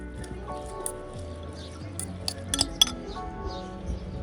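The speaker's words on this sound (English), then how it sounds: "Mix all that around." A utensil clinks against a glass bowl while a mayo, mustard, lemon juice and apple cider vinegar slaw dressing is mixed, giving soft squishing and scattered bright clinks that grow sharper toward the end, with a quiet voice in the background.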